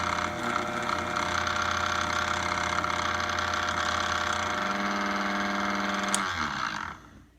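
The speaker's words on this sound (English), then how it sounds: "I go ahead and whisk it with the AER Disc. About speed 4." Vitamix AER blender with its whisking disc at about speed 4 whirring steadily through cold non-fat milk, a loud continuous motor drone holding for several seconds before winding down at the end.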